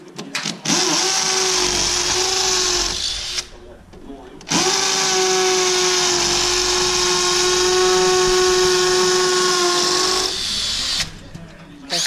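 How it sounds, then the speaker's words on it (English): Power drill boring holes into a brick wall for 6 mm steel tie rods, two long loud whining runs with a steady pitch, broken by a short pause, close up and dominating the scene. "So there's a few holes drilled."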